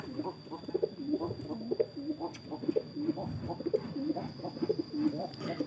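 Pigeons cooing close by, soft repeated throaty coos from a young grey pigeon in a rolling rhythm, with a faint steady tone in the background.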